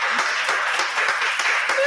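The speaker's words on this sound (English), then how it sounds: "now I clap myself in" A single person clapping their hands repeatedly in a steady rhythm, sharp close claps over a constant noisy background.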